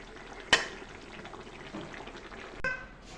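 Fish curry with cucumber and potato bubbling on a stove, a steady low hiss of simmering liquid broken by two sharp utensil clinks, one near the start and one near the end.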